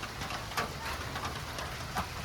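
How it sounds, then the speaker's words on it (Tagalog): Steady rain falling over a rural farmyard with chickens, a soft continuous hiss with a few faint brief chirps over it, no talk. "kahit na umuulan, hindi masyadong bahain, maputik lang syempre"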